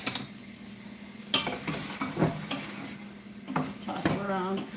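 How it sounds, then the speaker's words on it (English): Yams drying out in a hot pot, with a steady close sizzle punctuated by scraping stirs and a few clinks of utensil on metal, plus a brief murmured voice near the end. "Hear that sizzling?"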